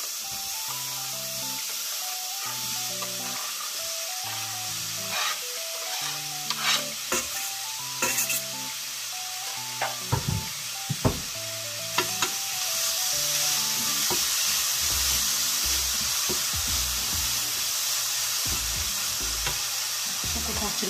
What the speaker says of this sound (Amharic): ቀይ ሽንኩርታችን እንጨምራለን።